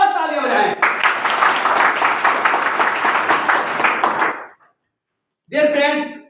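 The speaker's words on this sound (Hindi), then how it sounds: "जोरदार ताली बजाएं" A crowd at a network marketing training session claps loudly in a dense, rhythmic burst that stops abruptly, followed by a short silence and then a voice speaking.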